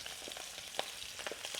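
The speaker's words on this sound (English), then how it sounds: "And that sizzle tells you" Prawns sizzle in a small amount of hot oil in a wok, a steady crackling fry with scattered pops and spits, close and alone.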